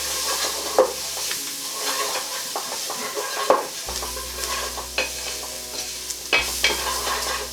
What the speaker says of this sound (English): So get all of that in there and give it a good stir.